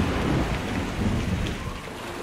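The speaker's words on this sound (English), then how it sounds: "But on the 12th night, a storm swept down upon them." A thunderstorm with heavy rain in the game My Tribe: dense, steady rainfall hiss with low rumbling thunder rolling underneath, loud and continuous with no voices.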